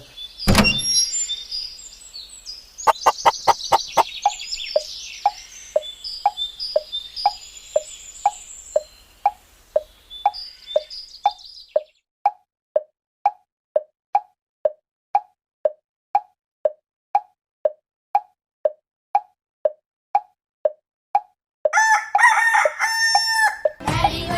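Chickens outdoors: a rooster crows loudly at the start, then a hen gives a long, steady run of evenly spaced clucks, and a fresh burst of crowing and squawking closes the sequence. No one speaks.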